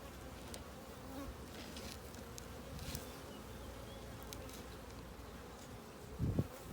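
Honeybees buzz steadily around an opened hive during an inspection, a faint continuous drone with occasional louder passes and a brief thump near the end, with no talking.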